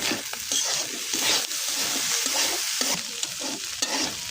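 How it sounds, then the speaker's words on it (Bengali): Food fries in a pan with coriander leaves added, a continuous close sizzle with scraping stir strokes throughout and no talking. "এই তো আমার ভাজার কালারটা আর একটু ভেজে নেব"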